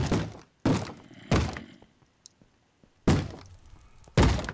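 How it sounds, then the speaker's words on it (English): Banging on a door in the Minecraft video game, five heavy thuds in irregular succession with short quiet gaps, loud and close with no talk. "Stop banging on my door!"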